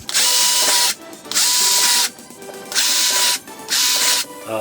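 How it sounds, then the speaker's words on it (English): A power drill bores guide holes for a Maxton front splitter on a Mk7 Volkswagen GTI, four loud, close bursts of whirring motor about a second each, separated by brief pauses. "So I'm actually going to make guide holes for the two middle ones here, just so that I don't screw up the alignment later on"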